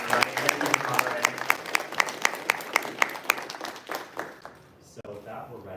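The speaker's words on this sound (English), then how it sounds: "let's please give you a round of applause" An audience at a live on-stage interview with a GitHub founder applauds, with rhythmic clapping that fades after about four seconds as a voice speaks over it near the end.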